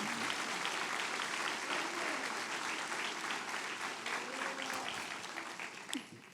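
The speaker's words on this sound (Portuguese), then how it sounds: "Vamos aplaudir o nome de Jesus." A church congregation applauds in a steady, dense wash of clapping that fills the room, holding strong before thinning toward the end, with a faint voice underneath.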